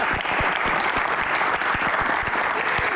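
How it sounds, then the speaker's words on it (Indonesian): A crowd applauds an Indonesian village ministry talk, loud dense clapping with crisp individual claps standing out, continuous and close without a break. "Tepuk tangan sekali lagi untuk Bapak."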